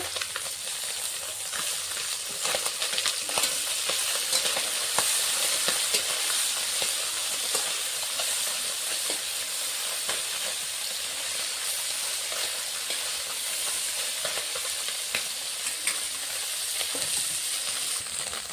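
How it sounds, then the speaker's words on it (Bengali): Small fish frying in oil in a pan, a dense, continuous crackling sizzle that stays close and steady throughout, with occasional scrapes and light knocks as the fish are turned, no voices. "এখন মাছটাকে উল্টে দিব।"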